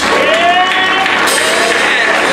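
A church congregation claps hands in praise, loud and sustained, with cheering voices and shouts woven through the steady roar of applause.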